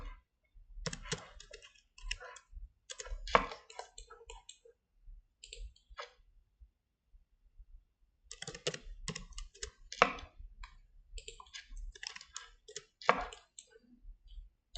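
Quiet mouse clicks and keyboard taps at a computer while pattern lines for a fashion garment are drawn, falling as scattered rapid clicks in two busy stretches split by a lull, close and soft, with no voice.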